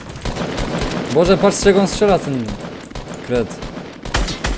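Rapid gunshots from a weapon in the Fortnite battle royale game crack out in short bursts, spread through the moment and loudest near the end, under lively overlapping talk from players.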